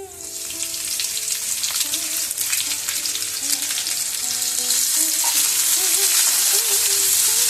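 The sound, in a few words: sliced onions frying in a pan for tomato egg curry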